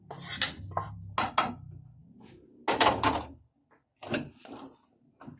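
A sautéed mixture is scraped from a pan into a pot of softened mung beans, heard as several knocks and clinks of a utensil against cookware with pauses between, fairly close and no talking.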